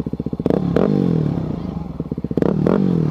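A motorcycle engine idles with a loud, chugging pulse and is revved twice, each rev rising sharply and then settling back to the rhythmic idle, close by.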